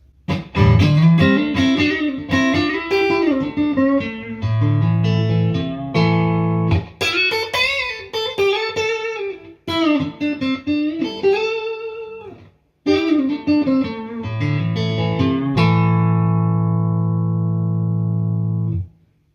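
Clean electric guitar on the neck pickup of an Indonesian-made Squier Classic Vibe '50s Telecaster, controls flat out, playing a melodic run of single notes and chords, sustained and warm, ending on a long ringing chord that fades.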